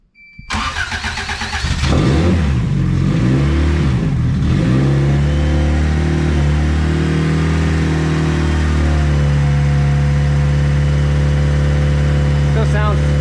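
Turbocharged D16 engine in a Honda EF hatch with a full 3-inch exhaust cranks and fires, blips through a few sharp revs, then settles into a loud, steady, close idle.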